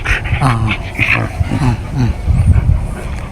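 A German Shepherd barks and growls loudly nearby in repeated rough bursts, with faint voices and noise in the background.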